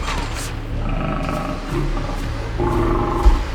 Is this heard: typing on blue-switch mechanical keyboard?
no